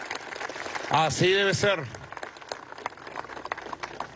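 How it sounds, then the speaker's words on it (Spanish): Crowd of soldiers and officials at a military event applauding, steady clapping running under a man's loud, animated speech throughout. "Yo también pido un fuerte aplauso para esa energía que transmite"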